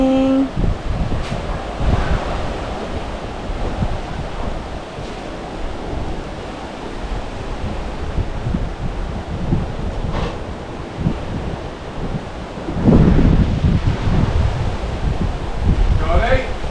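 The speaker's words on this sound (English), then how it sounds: "Windy in the morning." Gusty morning wind at a seaside resort in Pattaya, a continuous loud rush blending with surf and rustling leaves, buffeting the microphone with a stronger gust near the end.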